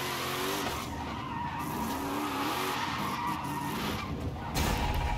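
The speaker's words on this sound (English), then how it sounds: "Drifting into the pits is actually kind of sick as well." A wagon drifting in Forza Horizon 5, its tires squealing in long wavering skids over a steady engine drone, loud and close, ending in a sudden surge of noise.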